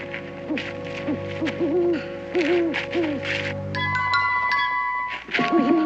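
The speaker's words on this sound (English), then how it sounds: "Sure, that ain't nothing but a hoot owl." Hoot owl calling in a series of wavering hoots at night, fairly loud and near, with a ringing chime-like tone sounding partway through.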